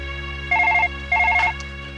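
A telephone bell rings in two short repeated bursts over a steady background hum, as a call comes through at a hospital in a horror drama, with no talk during the rings.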